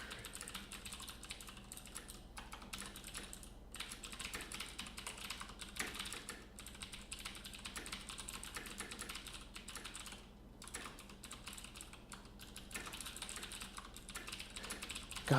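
Rapid, continuous tapping on a computer keyboard while coding in Visual Studio, dense bursts of key clicks with short pauses, close and quiet.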